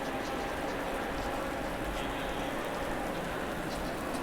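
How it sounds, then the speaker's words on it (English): Rain falls on the Suzuka circuit in the racing game Assetto Corsa Competizione, a steady, dense patter of drops on surfaces with soft splashes, continuous and fairly close, with no voices. "The rain has come down."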